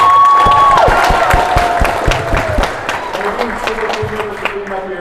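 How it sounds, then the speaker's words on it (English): An audience at school cardboard boat races claps and cheers outdoors, a loud burst of scattered applause tapering off over a few seconds, with voices mixed in. "So one last round of applause for all these."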